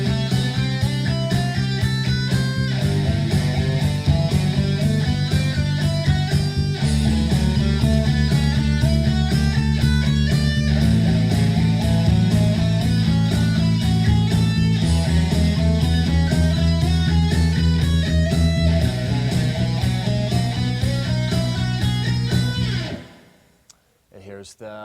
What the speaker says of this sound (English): I'm going to play through the circle of fifths, both octaves now, starting on C, starting with the major scale